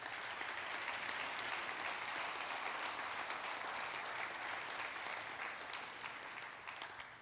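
Sustained audience applause at a retirement summit in Boucherville, an even wash of many hands clapping that gently tapers off near the end.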